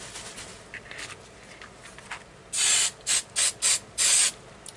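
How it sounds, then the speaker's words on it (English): Faint rustling gives way to five hissing hairspray aerosol bursts, the first long and the rest short, each sharp and close. "I'm going to spray it with hairspray."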